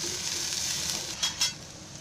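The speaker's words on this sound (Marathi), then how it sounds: "असा कांदा लसूण हे सगळं असं भाजून घ्यायचं चांगलं" Chopped onion and garlic roasting in a pan for a potato and cowpea curry, a steady close sizzle with two brief louder stirring scrapes near the end.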